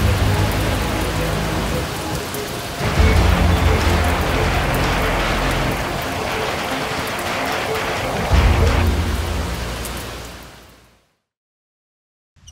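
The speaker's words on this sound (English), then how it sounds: "The rain has started, which is perfect." Heavy rain pours steadily onto a tarp canopy at a Jeep campsite, a loud continuous hiss with two surges of low rumble, before the sound fades out abruptly near the end.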